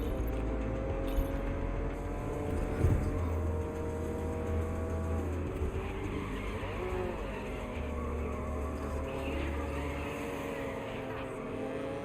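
Lancia Stratos rally car in the racing game GRID Legends, its engine a steady loud drone with shifting pitch as it revs and changes gear, continuous throughout with no talk over it.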